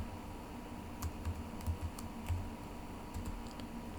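Light, quick taps on a computer keyboard as text is typed, faint and close against a steady background hum.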